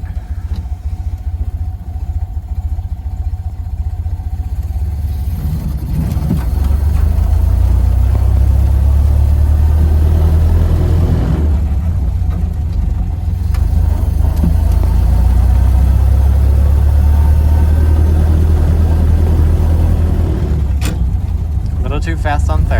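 A Model A Ford engine drives along, a steady low rumble that swells louder after a few seconds and holds close and strong, with a brief dip midway, as it pulls through third gear.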